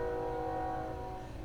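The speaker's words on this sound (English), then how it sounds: "comes the train." A passing train sounds a long, steady horn, its sustained layered tones ringing over a continuous rumble of rail noise at fairly close range, with no talk.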